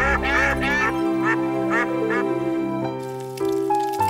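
Cartoon ducks quack in a loud, nasal flurry over a musical score, the calls fading into sustained tones and a brief melodic sting near the end.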